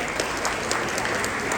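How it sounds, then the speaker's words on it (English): Dense, steady applause from an audience, a continuous wash of many hands clapping. "A big round of applause for Asha."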